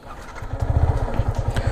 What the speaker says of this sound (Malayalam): നമ്മൾ എൻജിൻ ഓൺ ചെയ്തു, സെൽഫ് അടിച്ചു